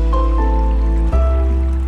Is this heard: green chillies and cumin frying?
no